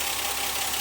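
A 3-litre V6 in a South African market Ford Granada 3.0GL automatic idles steadily, a loud, even, continuous engine drone with no talking.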